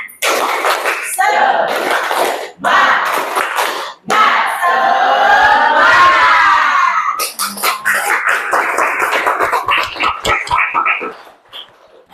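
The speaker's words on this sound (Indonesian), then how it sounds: "Tepuk semangat" Students of class 11-3 at a university session clap in a patterned spirit clap, punctuated by loud group shouts and chanting, with sharp rhythmic claps near the end.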